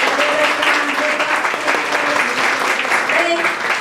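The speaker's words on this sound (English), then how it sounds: "Let's give a round of applause." A round of applause from an audience at a Dallas breakfast gathering, steady, close clapping throughout with voices and talk mixed underneath.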